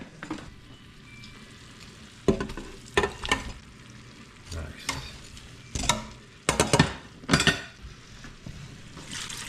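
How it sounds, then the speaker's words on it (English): Beef meets a hot pot for minestrone soup, a faint steady sizzle broken by several sharp clatters and scrapes of a utensil stirring against the pot. "now we're gonna put our meat in there"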